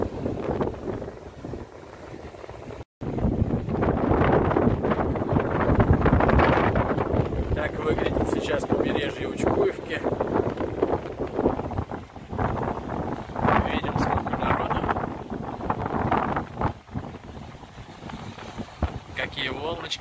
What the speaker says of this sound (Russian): Ветерок как раз